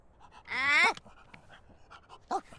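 A dog in The Sims 4 video game pants in a short burst and gives faint whimpers, quiet and close, with small game sounds in between.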